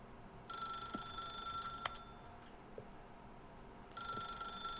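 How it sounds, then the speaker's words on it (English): A telephone with a cord rings inside the video game The Stanley Parable, two bursts of bright electronic trilling separated by a quiet gap, faint against a low room hum. "What happens if I don't pick up the phone?"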